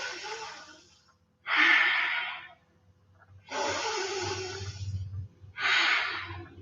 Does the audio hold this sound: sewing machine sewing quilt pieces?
no